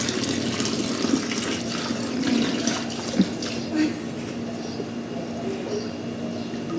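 Water is poured from a small bucket in a waterfall-like stream, a steady splashing wash through the clip with a few brief bumps and faint background voices.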